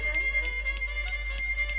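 A temple bell rings repeatedly in a steady rhythm, about six bright strikes over a low constant hum, during a Bhagavat Katha religious gathering in Gujarat.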